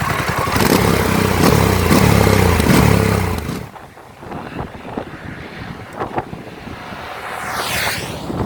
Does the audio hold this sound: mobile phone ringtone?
no